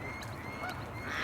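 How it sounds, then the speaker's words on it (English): Geese honking near a capture pen in Arizona, a few faint, nasal honks rising over a soft steady background, heard at a distance with no talking. "Eventually, the first group of geese made their way to the pen."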